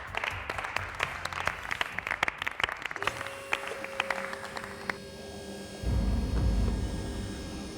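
Audience applause greeting Lord Micidial as he is introduced as a new TG president in an Italian comedy sketch: a dense burst of clapping for a few seconds, then fading as a low rumble and hum take over.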